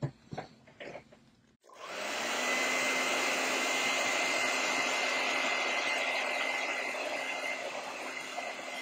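After a few quiet taps, a hair dryer switches on to dry paint on a canvas snow-covered farm painting. It blows a loud, steady, close whoosh for the rest of the clip.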